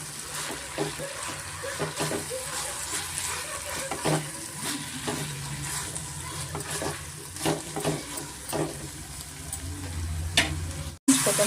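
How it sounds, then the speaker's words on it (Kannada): Coriander and mint leaves frying in masala oil for mutton sambar, a steady close sizzle with stirring scrapes and brief clicks throughout, a faint voice underneath. "ಸ್ವಲ್ಪ ಕೊತ್ತಂಬರಿ ಪುದೀನದು ಹಸಿ ಸ್ಮೆಲ್ ಹೋಗೋವರೆಗೂ ಸ್ವಲ್ಪ ನಾವು ಮಸಾಲೆನಲ್ಲಿ ಫ್ರೈ ಮಾಡ್ಕೊಳ್ಳೋಣ"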